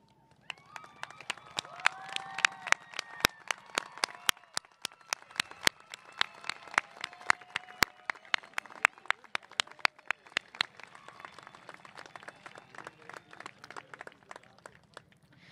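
An audience at a Flowing Wells High School ceremony applauds the mothers in the crowd, steady scattered clapping with some sharp individual claps over fifteen seconds, moderately close and fading slightly toward the end.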